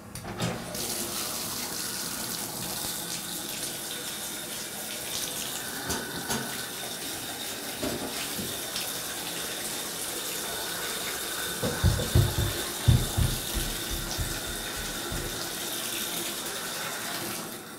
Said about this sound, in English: I'm running the shower at the same time that I'm running the water at the sink and flushing the toilet